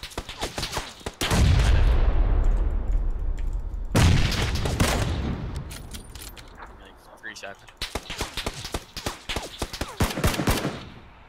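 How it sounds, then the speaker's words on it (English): Gunfire in PUBG, rapid crackling volleys of shots with a couple of heavier booming blasts, fairly close, under occasional talk. "I heard a guy shooting on the right though"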